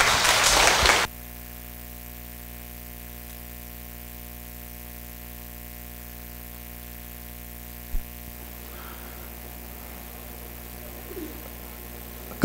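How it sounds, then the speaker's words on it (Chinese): A short burst of applause welcomes a lecturer to an evening class, lasting about a second before giving way to a long, near-silent stretch of low electrical hum with a faint knock. "请掌声欢迎，谢谢。"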